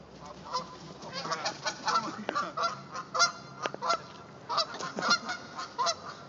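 A flock of geese honks repeatedly outdoors. The calls are loud and overlapping, set over a continuous rough background.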